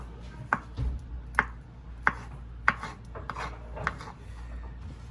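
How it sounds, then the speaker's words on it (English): A knife cuts through cooled boiled eggs on a board, making about half a dozen quiet, evenly spaced chopping knocks against a soft low background. "now that they're cool, we're gonna cut our boiled eggs"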